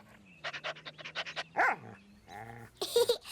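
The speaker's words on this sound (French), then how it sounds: "c'est vrai que c'est un très beau chien" A cartoon dog in a French children's animated show gives a run of quick yaps and pants, then a whimpering yelp and a few more barks, close and clear against a quiet background.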